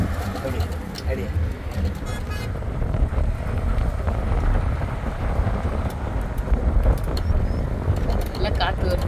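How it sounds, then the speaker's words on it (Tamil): Strong wind buffets the microphone in a steady broadband rush at a nature park in Salalah, Oman during the Khareef season, with people talking over it and faint bird calls now and then. "நல்லா காற்று வருது"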